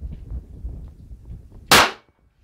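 A single sharp gunshot from a handloaded Hornady XTP round, loud and close, cutting through low background rumble and ringing off quickly.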